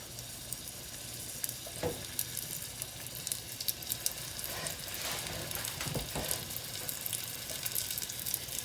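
Flour-coated beef chunks sizzle and fry steadily in an uncrowded pan for a beef stew, a close, continuous crackle with occasional louder pops and stirring scrapes, no talking.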